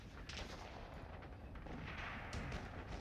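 Gunfire and artillery rumble in a World War II Normandy landing video game come as a dense, muffled, continuous barrage of booms and shots, faint and distant, with no voices.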